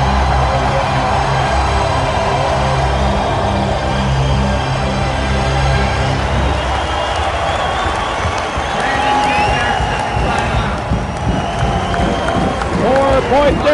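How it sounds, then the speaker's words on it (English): A basketball crowd at a 1988 CIAU men's nationals game between Brandon Bobcats and Acadia cheers and applauds during a timeout, a loud continuous roar of voices and clapping with a broadcaster talking over it. "That crowd is going crazy."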